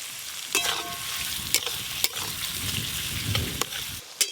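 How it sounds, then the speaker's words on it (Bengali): Chopped onions fry in a pan on a clay village stove for a goat meat curry, a steady close sizzle broken by sharp scraping strokes of stirring every second or so. "পেঁয়াজ কুচিগুলো প্রথমে একটু ভালো করে ভাজা ভাজা করে নিই"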